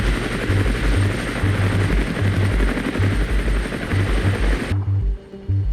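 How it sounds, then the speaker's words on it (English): Mi-24 attack helicopters flying over a battlefield in the war game Armored Brigade 2, a loud steady rotor thump with a rhythmic low chop and engine whine, close and continuous before cutting off sharply near the end. "we have our Mi-24s to support us in our attack, and they made it just right on time"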